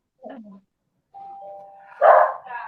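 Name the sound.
doorbell ringing and dog barking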